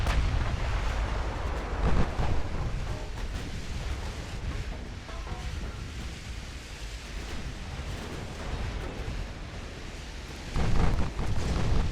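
Armored cruiser guns firing in the naval battle game Ultimate Admiral Dreadnoughts, deep rumbling booms over a constant roar of sea and battle noise, with heavier thuds standing out near the start and again near the end.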